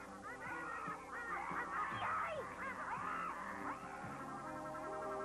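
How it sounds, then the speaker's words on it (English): A wild duck in a cartoon honks over and over in a busy run of nasal calls that fills the whole stretch, loud and close against a steady backing. "Here comes the wild duck."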